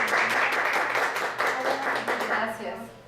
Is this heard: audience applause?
yes